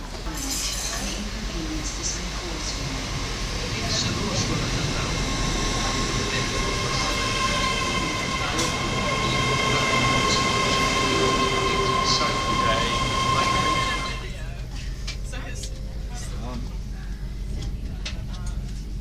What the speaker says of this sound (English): Our train is just in the distance, I can see it coming in.